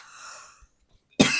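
A single sharp, close cough bursts out after a quiet breathy pause, following a faint trailing voice.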